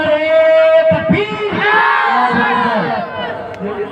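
A large crowd at an Eid Milad-un-Nabi religious gathering roars back in unison to the Nara-e-Takbeer slogan, a loud swelling chorus of shouting voices lasting several seconds after a leader's call.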